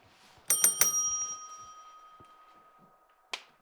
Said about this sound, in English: That's the sound the bell makes when it wants the match to start.